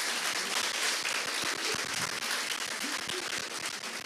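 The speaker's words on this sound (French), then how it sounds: "On peut les applaudir." Dense, continuous applause fills a graduation ceremony hall as the audience claps for the course coordinators, steady and loud for the whole stretch with no speech over it.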